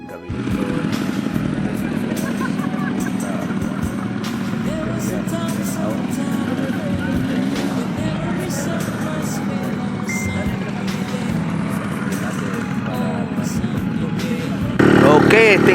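Rented motorcycles ride across red sand desert near Jubah, Saudi Arabia, their engines droning steadily and loudly throughout, with a louder surge near the end and people talking over the noise.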